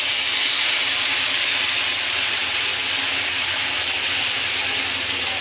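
Gram flour (besan) frying in a hot kadhai gives a steady, dense hiss of sizzling that stays loud and even throughout, with no voices.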